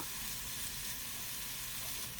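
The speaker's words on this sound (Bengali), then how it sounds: "ভাজার সময় অল্প একটু হলুদ আর নুন বেগুনের মধ্যে দিয়ে নিতে হবে নুন আর হলুদ দিয়ে ভালো করে মিশিয়ে নিয়ে একটু সময় নিয়ে ভালো করে ভাজবো" Eggplant slices coated with turmeric and salt fry steadily in hot oil, producing a continuous, close sizzle with no pauses.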